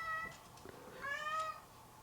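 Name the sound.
cat meowing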